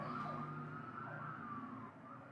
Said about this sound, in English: I'm just like trained to ignore all the sirens and all the explosions and the noises that are happening throughout Manhattan all the time